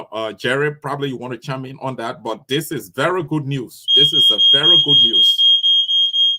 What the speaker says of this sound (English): The smoke detector just came on in my house.